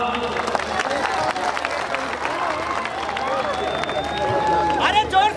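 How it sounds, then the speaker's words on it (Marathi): A crowd claps and cheers at a Bhojpuri star night stage show in Pune, a sustained wash of applause and crowd noise mixed with an announcer's amplified voice. "सगळ्यांनी टाळ्या वाजवा"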